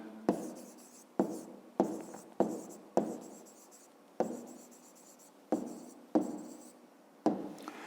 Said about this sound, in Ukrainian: Давайте запишемо відповідь.